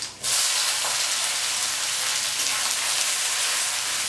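Chopped onion fries in hot mustard oil with dried red chillies, a bay leaf and cumin, a loud steady sizzling hiss that begins abruptly and continues evenly close by, with no talking.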